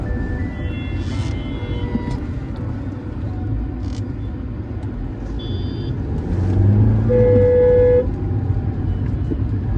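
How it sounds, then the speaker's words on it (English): Road traffic near a checkpoint on the Maharashtra border rumbles steadily, with several car horns tooting in short bursts and one long, loud honk close by. "There's a bit of traffic here because I'm sure there must be some congestion at the checkpoint also."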